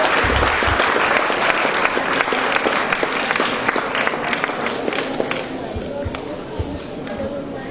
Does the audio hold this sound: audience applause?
yes